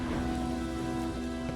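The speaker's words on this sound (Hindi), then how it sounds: "बारिश आ रही लगता है" Rain falls in The Witcher 3, a brief wash of steady patter layered under sustained tonal game music.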